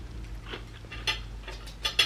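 Crisp, crunchy bites and chewing of a vegan tuna salad sandwich with celery, heard as several short close-up crackly bursts over a quiet room hum, growing sharper toward the end.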